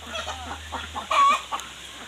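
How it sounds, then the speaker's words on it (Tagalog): Chickens and roosters on a hillside farm cluck in a quick series of close, choppy calls, with one louder, sustained squawk in the middle over a low background hum. "Daghan laging sunoy."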